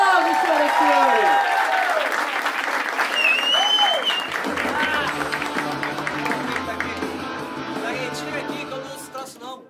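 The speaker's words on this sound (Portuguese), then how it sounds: "Yes, aplausos, senhoras e senhores!" Audience applause fills a stand-up comedy show, loud and steady throughout, with someone talking over it at first and crowd noise continuing as the clapping slowly eases.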